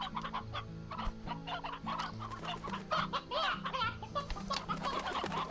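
Hens and roosters in the Slime Rancher video game cluck repeatedly in a busy, continuous flock chorus, close and fairly loud over a steady low game-music drone.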